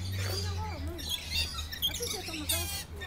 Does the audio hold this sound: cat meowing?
no